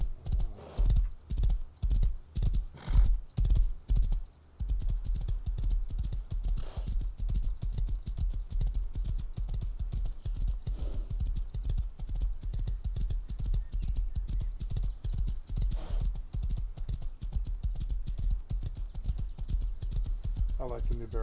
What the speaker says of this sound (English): Oh, this horse really seems to want to turn around.